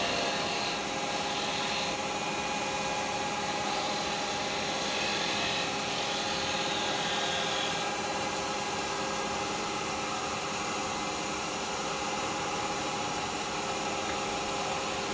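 A carbide woodturning tool cutting a wooden bottle stopper on a lathe, heard as a steady, close, dense whirring hiss of the spinning machine and scraping cut, continuous and even with no speech.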